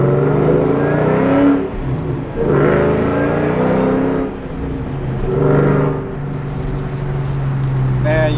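A Ford SVT Terminator Cobra's supercharged V8, running on E85, revs loudly close by in repeated rising bursts, with strong harmonic sweeps separated by brief dips.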